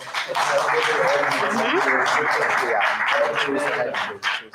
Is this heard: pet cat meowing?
no